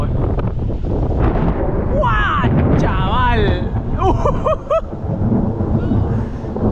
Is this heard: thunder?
yes